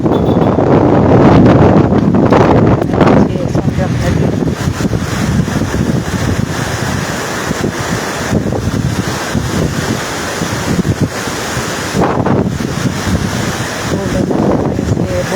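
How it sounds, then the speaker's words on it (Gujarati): Wind and rain roar loudly and continuously by a swollen river at Bhavnath, Junagadh, with heavy gusts buffeting the microphone throughout and no clear talk. "વાદળો બધા ડુંગરાને અડી ગયા છે અને બહુ વરસાદ પડી જાય છે"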